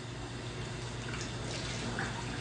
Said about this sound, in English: Now you just run water over it in a sink